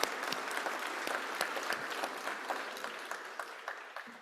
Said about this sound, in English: Give the applause.